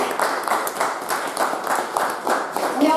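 A live studio audience at a McCreary County jailer debate applauds, a steady wash of many hands clapping at moderate distance, continuous through the moment with slight swells.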